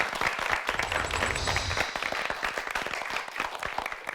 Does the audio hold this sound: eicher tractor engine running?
no